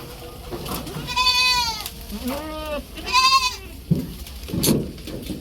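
Rain-soaked goats bleat at close range, with two long quavering calls followed by a shorter one, over a low background of rustling and faint noise.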